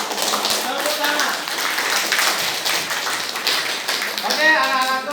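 Classroom of students clapping hands together, a busy, continuous patter of many claps at fairly close range lasting several seconds, with children's voices mixed in toward the end.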